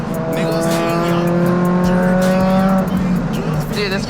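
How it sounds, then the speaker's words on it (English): A Subaru BRZ running 7 PSI boost on ethanol accelerates hard, its engine note rising in pitch through a sustained pull, loud and close from inside the car, with talk and music mixed over it. "Dude, this car rips."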